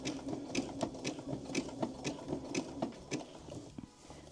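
A sewing machine stitching an applique onto a T-shirt, running in a steady close mechanical rhythm of needle strokes, fairly quiet and slowing near the end, no speech.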